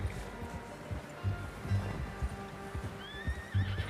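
A horse neighs and whinnies in Red Dead Redemption 2, with steady clip-clop hooves underneath and a rising whinny near the end, moderately close and without talk.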